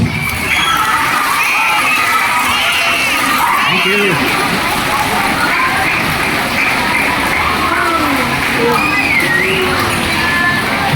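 At a school assembly, a large group of children cheer and shout loudly for their parents, a continuous, dense wall of young voices with rising whoops that stays at full volume for the whole stretch.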